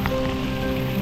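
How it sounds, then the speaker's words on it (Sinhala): Heavy rain falling on the Horton Plains trail, a constant close wash of drops on wet ground and surfaces over one brief second, with no voices. "ඔන්න දැන් වැස්ස වැඩි කරා අකුණුත් ගහනවා"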